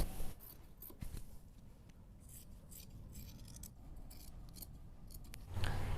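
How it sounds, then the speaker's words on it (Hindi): Scissors snipping through cotton cloth while cutting out a nighty, a steady run of close, crisp cuts with a louder rasping snip near the end and no talking. "तो जहाँ पे मैंने दाग दिया है तो ऐसे सेम हम काट लेंगे।"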